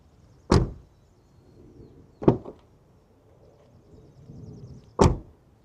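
Three heavy door slams of a BMW E90 M3, each a solid, short thud spaced a couple of seconds apart, close by with quiet between them, no rattles.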